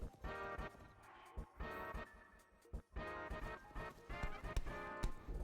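Galloping horse hooves in Zelda: Tears of the Kingdom, a steady rhythmic clip-clop at moderate level mixed with game music and effects, running throughout.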